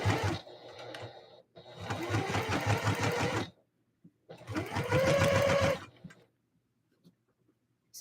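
A sewing machine runs a second gathering row on a Christmas dress, two loud bursts of rapid rhythmic stitching separated by a short pause, then the motor stops and the room falls nearly silent.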